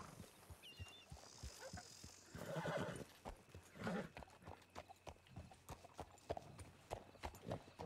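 Horses in a ranch role-play video game clip-clop along at a walk, hooves tapping in an irregular rhythm while a horse neighs and whinnies; a faint voice is heard in the background.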